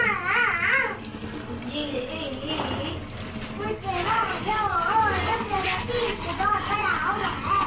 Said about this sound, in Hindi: यहाँ पे थोड़ा सा पानी शामिल करेंगे कि मिर्चें जले नहीं